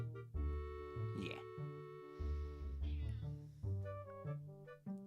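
A cat meows several times in a row, each call close and fairly loud, with no talking over it.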